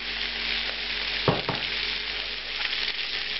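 Chicken pieces fry in a pan at about 200 degrees for a cider chicken fricassee, giving a constant close sizzle with a couple of sharp clinks or taps near the middle.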